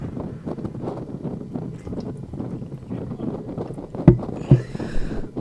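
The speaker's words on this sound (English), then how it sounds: "It is extremely windy out here, guys, out ahead of these storms." Strong wind buffets the microphone outdoors ahead of West Texas storms, a steady low roar with gusty surges and two sharp thumps near the end.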